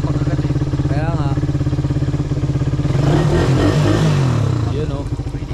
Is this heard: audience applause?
no